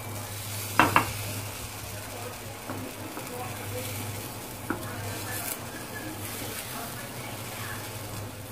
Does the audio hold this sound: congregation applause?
no